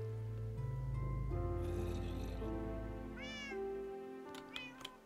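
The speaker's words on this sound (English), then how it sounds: "Oh, I think I've just killed Phorxy's cat" A cat meows in a Minecraft-style video game, several clear synthesized mews rising and falling over a steady low game hum, fairly loud and close, with no talking.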